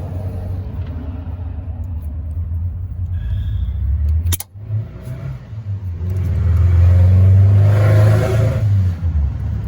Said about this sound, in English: It was a Volkswagen. Sounded disgusting.